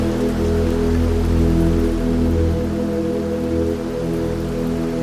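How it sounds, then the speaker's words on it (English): Gentle rain falling steadily on a surface at night, a soft continuous patter of raindrops with a low, even hum beneath, unbroken and without voices. "Let the soft patter of raindrops fill your mind"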